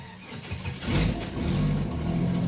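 An old Jeep engine coming out of hibernation cold-starts with a rough crank that catches and builds into a loud, uneven, roaring idle close by.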